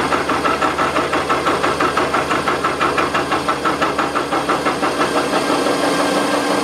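A Bridgeport milling machine on auto feed cuts a spur gear with an involute cutter, making a loud, steady mechanical drone with a fast, even chattering pulse throughout and no voices.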